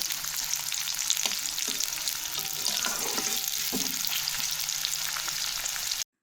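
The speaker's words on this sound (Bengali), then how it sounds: "বেরেস্তাটা সুন্দর মতো ভাজা হয়ে গেছে" Sliced onions and garlic fry in hot oil in a pan, producing a steady, close crackling sizzle with a few soft stirring knocks partway through, and no one talks over it.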